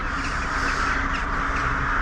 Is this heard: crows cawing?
yes